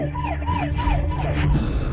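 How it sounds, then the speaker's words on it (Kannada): An emergency vehicle siren wails loud and close, its rising and falling tone repeating steadily over a low engine rumble, with no voices present. "ಅದೇ ಸಮಯದಲ್ಲಿ ಎಲ್ಲರಿಗೂ ಸೈರನ್ ಶಬ್ದ ಕೇಳಿಸಿತು"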